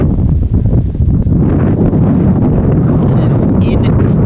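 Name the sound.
strong wind gusts at a softball field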